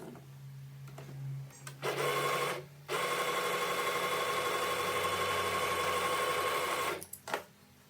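A sewing machine stitches the shoulder seam of a top, starting with a short whir and then a steady, close buzzing run of several seconds before stopping, with a faint click afterward.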